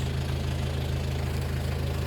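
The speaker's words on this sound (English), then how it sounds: "We've got a 6-sounding Land Rover here behind us." A modern six-cylinder Land Rover engine runs steadily close behind, making a low, even, moderately quiet idling rumble with no talk over it.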